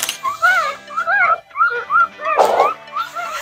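A dog or young puppy on a farm gives repeated high, wavering whimpers and short yips in quick bursts, loud and close, with a dull thump partway through.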